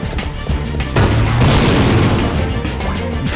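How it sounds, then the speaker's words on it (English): A gravity bomb goes off in the Ratchet and Clank 2 video game, a loud booming blast about a second in that rumbles and crackles before trailing off. "Try using the gravity bomb here."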